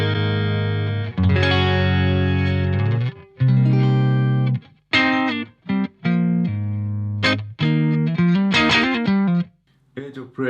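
Electric guitar through a Mesa/Boogie Triple Crown 50 head with the chorus switched off, sustained chords then choppier phrases and single notes with gaps between them, fairly clean tone with slight grit, loud and close.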